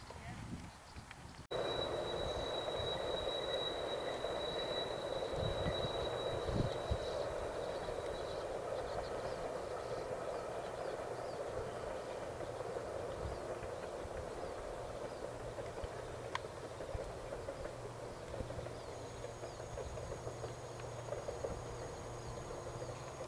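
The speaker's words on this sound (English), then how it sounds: "That's the final train." A train, not a conventional ScotRail unit, rumbles past steadily at a moderate distance on Rannoch Moor, a continuous low roar with faint squeals and clanks, while people talk quietly in the background.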